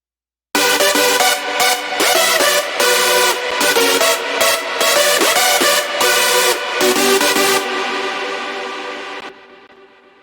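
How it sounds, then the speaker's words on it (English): Hardstyle remake drop with bright, wide synth leads and chords playing together, dense and loud with rhythmic gaps, then a sustained chord fading out in a long tail. "And together the leads and chords sounds like this."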